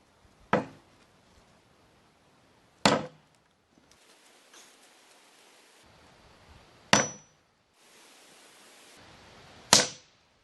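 A hammer whacks homemade guncotton (nitrocellulose) wrapped flat in foil, giving four sharp, loud, isolated bangs spaced a few seconds apart, each a crisp crack with a short decay and near-quiet between.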